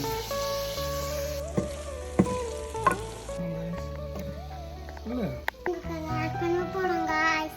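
Onion and cashew fry in a pan while being stirred, a steady sizzle under scraping spoon clicks, with children talking over it throughout.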